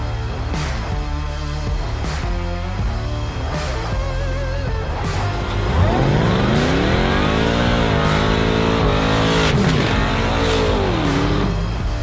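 A supercharged V8 swapped into a 2013 Subaru Forester revs hard during street pulls, its loud, close engine note climbing steadily in pitch and surging again near the end, with no talking.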